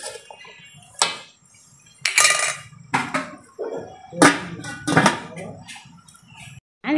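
A lid clatters onto a cooking pot of simmering ginataang kalabasa, giving several sharp metallic clanks and clinks spread across the moment, close by and alone with no talk.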